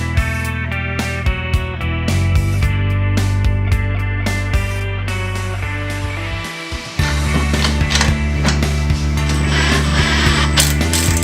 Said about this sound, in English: When you're tightening up that nut, make sure you don't tighten it too tight on the flange.